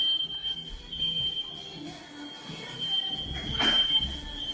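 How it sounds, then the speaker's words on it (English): A loud smoke alarm sounds with a continuous, piercing high-pitched tone. It holds steady throughout over a rumbling, noisy background. "do you have one of these smoke alarms? They're real fucking loud."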